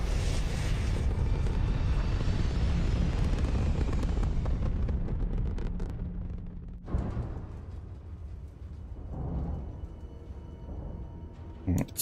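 A spaceship lifts off in the video game Starfield: a loud, broad engine roar fills the first several seconds, then eases into a lower rumble with a few later surges.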